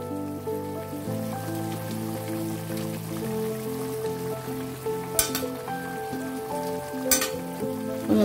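Steady sizzling and bubbling of egg curry cooking in a pan, with faint background music and a couple of sharp clinks.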